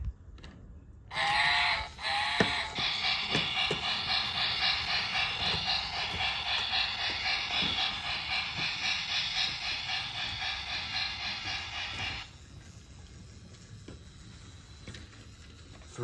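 A battery-operated BRIO toy train clatters steadily along its track with a rhythmic mechanical whir and clicking, running for about ten seconds before stopping.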